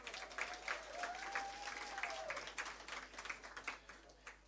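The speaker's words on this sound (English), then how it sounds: "A round of applause, please." A room claps for guests from the Swiss Embassy at a human rights event, steady quiet applause from a fairly distant audience, with a voice speaking over it early on.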